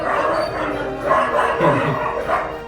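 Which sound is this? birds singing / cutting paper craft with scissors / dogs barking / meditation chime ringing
dogs barking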